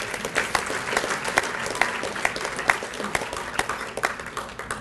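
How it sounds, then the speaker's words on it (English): Audience applause at an Armstrong State athletic Hall of Fame ceremony for newly named inductees, steady dense clapping from a large crowd, sustained and fairly loud throughout with sharp individual claps standing out. "You can give them a round of applause."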